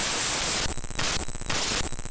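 FL Studio project file data played back as raw audio, dense loud static that switches in a regular pulse between hiss and a buzzy, tonal texture with a high whine.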